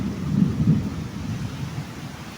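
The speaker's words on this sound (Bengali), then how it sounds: "তাই আজকে বৃষ্টি দিয়ে দিল ভালো মতো।" A thunderstorm rumbles low and heavy with a couple of booming swells over a steady wash of falling rain, no voices present.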